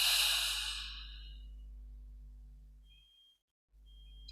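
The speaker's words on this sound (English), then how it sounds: "Breathe out." One long, deep breath out during a guided relaxation exercise, loud and close at first, then fading into a low steady hum and a faint tone before a brief silence.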